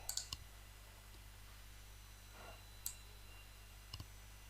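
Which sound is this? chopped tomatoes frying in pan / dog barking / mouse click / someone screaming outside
mouse click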